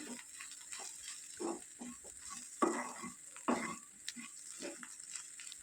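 A spiced ground cluster bean mixture with chilli powder, coriander powder and fresh coriander is stirred in a pan, giving quiet, intermittent scraping strokes with soft sizzling and no talk.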